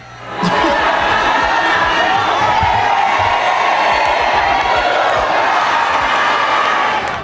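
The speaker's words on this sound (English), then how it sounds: "In seconds, the crowd of hundreds sang her out like a ball player who had just struck out." A crowd of hundreds raises a loud, dense wall of voices that surges at once and holds steady, with cheering and shouting blended into a continuous roar, while a few lone voices poke through.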